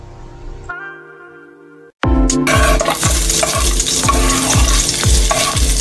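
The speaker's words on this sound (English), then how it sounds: "you're gonna saute the veggies until fragrant" Vegetables with garlic sauté in a hot pan for a crab dish, giving a loud, steady sizzle with repeated stirring scrapes after a quiet start.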